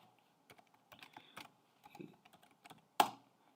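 Light plastic keys tapped on a computer keyboard at a login prompt, a short uneven run of soft clicks followed by one louder, sharper keystroke near the end, heard close and alone.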